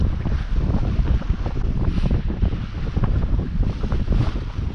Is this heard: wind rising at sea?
yes